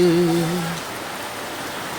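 Steady rain hisses evenly throughout, with a brief sustained tone sounding over it at the start before fading away.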